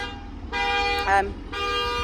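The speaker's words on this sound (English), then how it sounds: "How inconvenient that car alarm's going off." A car alarm sounds nearby in two loud, steady toots separated by a short gap, each blaring tone lasting about half a second, near a bike show.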